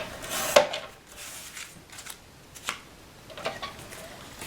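Paper being trimmed for a scrapbook page, a few faint, sharp snips and slides of a cutter with soft scraping and one louder click near the start, in a quiet room.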